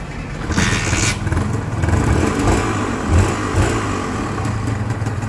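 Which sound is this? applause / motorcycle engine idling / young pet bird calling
motorcycle engine idling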